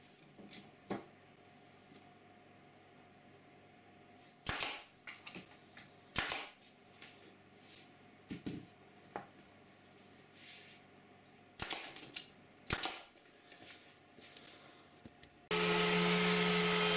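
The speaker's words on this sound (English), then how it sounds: "the edging is glued and nailed in place." Sharp pneumatic nailer shots pop at irregular intervals, nailing glued wood edging onto an assembly table top, with a compressor-like roar kicking in near the end.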